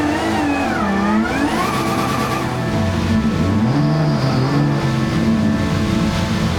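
A drift car's engine revs loudly and continuously as the driver warms up the tires before a Drift Masters Germany run, pitch climbing and dipping through repeated throttle blips, with no talk over it.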